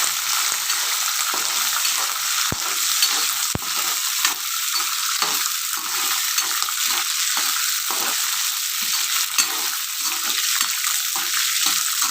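Green chillies frying in oil in a pan, a loud, continuous crackling sizzle close up with a couple of sharp clicks along the way.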